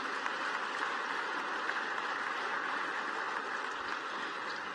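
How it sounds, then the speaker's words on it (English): An audience applauds continuously, a dense, even patter of many hands clapping at a moderate distance with no voices over it. "Can we give them a final round of applause,"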